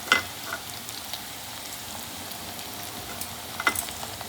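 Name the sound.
cumin and green chili frying in a pan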